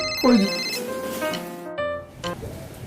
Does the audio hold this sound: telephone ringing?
yes